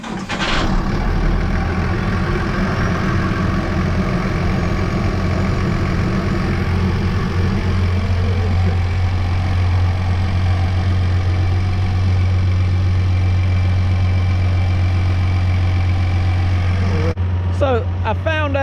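A farm tractor with electronic fuel injection idles steadily at close range, a low, even engine drone that holds throughout with a brief shift near the end.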